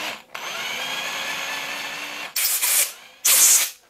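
Compressed air blasts out small drilled ports in a plexiglass lipless crankbait lure, a sustained hissing airflow followed by two short, sharp bursts of air, close and fairly loud.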